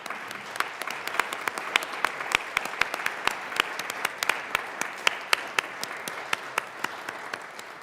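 Applause rings out in a state legislative chamber, the Colorado House, with a modest group clapping so that individual sharp claps stand out irregularly over a softer steady patter.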